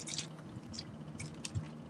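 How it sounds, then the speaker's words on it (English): A handheld spray bottle misting water onto a wig, heard as several short, soft hissing spritzes at irregular intervals, quiet and close. "Let's give her a spray."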